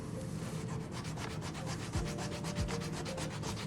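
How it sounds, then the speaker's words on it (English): A shoe eraser rubbed back and forth on a suede boot gives a soft rapid scrubbing rasp in quick regular strokes, faint and close with no talking. "This eraser acts as a bit of a mild abrasive, but it will not damage your leather."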